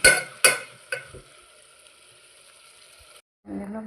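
Tomatoes stirred into a frying curry bring sharp spoon-against-pan scrapes, three strong strikes fading into a soft sizzle, then a short gap before a voice begins.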